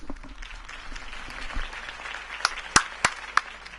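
Crowd applause at a Harvey Dent campaign rally in a Batman video game: faint, scattered clapping under a low murmur, with a few sharper louder claps toward the end.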